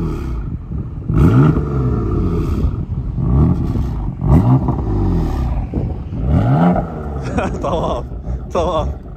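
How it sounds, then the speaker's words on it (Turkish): BMW M4 engine revving in repeated bursts of roaring throttle, loud and close, with people talking over and between the revs. "Araba kükrüyor ya"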